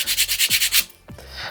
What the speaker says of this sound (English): get that file out, and I'm going to sand these edges down.